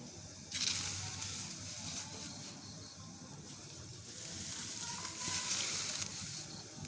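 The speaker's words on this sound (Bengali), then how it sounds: "চুলায় মাছ বাজার মাছটা দিয়ে দিতেছি আর মাছটা আমি সুন্দর করে পিটুপিট করে ভেজে নেব ভালো করে" Fish frying in a pan on a stove, a steady sizzle with two louder hissing surges as it cooks, close and fairly quiet, with no talk over it.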